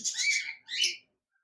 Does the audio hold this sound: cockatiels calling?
yes